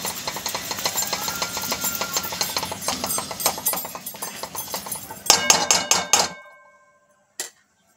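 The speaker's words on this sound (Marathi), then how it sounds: "थोडा हा मसाला हलवून घेऊयात आपण आधी" A spoon stirs prawn masala in a metal pan, making rapid, ringing clinks and scrapes that grow louder, stop abruptly and end with one last isolated knock.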